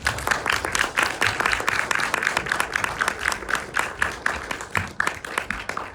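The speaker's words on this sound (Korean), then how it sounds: "박수로 환영해 주시기 바랍니다" Audience at a Jeonju film festival special class applauding to welcome two guests on stage: dense, sustained clapping from a full room, loud and steady throughout.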